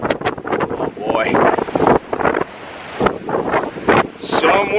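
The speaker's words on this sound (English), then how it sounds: "Some windy up here." Strong wind buffets the microphone in loud, rumbling gusts on a high balcony of an abandoned military base, with people talking intermittently through the roar.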